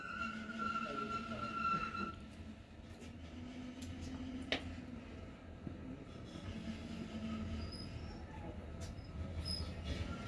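An NS 1700 series train rumbles past at a distance with faint wheel squeals and a brief sharp screech, quiet and steady throughout.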